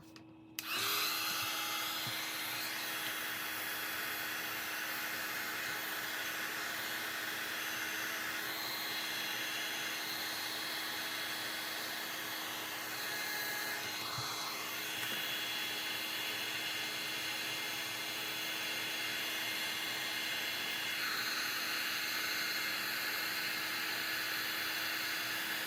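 A heat tool blows steadily over an art journal page, a constant close airy whir with a faint electric hum running for the whole stretch after a quick click at the start.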